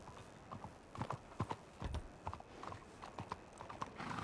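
A horse's hooves clip-clop on a city street in the WildRP Western role-play game, an uneven walking rhythm of soft, close hoof strikes at low volume with no talking.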